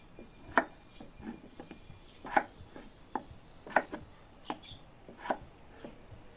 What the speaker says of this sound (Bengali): এখন আমি আলু কেটে নিচ্ছি।